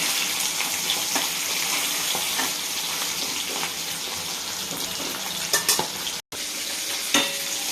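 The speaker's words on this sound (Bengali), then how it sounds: "চার পিস করে মাছগুলোকে আমি ভেজে নেব।" Pieces of fish frying in mustard oil in a pan, giving a dense, continuous sizzle close up, with a few stirring clatters and one brief break near the end.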